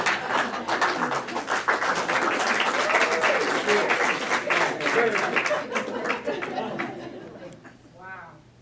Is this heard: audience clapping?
yes